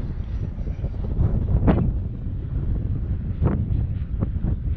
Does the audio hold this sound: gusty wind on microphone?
yes